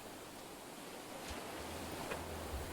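Soft, continuous surf of ocean waves washing onto a shoreline in the game Oceanology 5, a faint, steady hiss with gentle swells and no voices.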